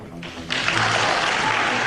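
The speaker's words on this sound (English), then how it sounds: "Can we please hold the applause?" Audience applause on a talk radio broadcast starts abruptly partway through, a loud, dense wash of clapping that holds steady to the end after a quieter opening.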